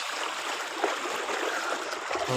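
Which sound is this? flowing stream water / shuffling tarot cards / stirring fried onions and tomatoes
flowing stream water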